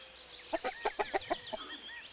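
A small chick in a farmyard gives a quick run of about seven sharp clucks over roughly a second, close and fairly loud, then falls quiet.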